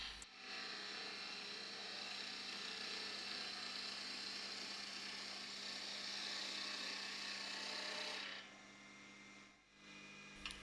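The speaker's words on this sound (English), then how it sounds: "smooth the cylinder across the top using the skew chisel with the lathe running at 1800 RPM." A wood lathe runs at 1800 RPM while a skew chisel smooths a spinning wooden cylinder, giving a steady broadband hiss and hum that holds for about eight seconds before the cut stops and the motor winds down.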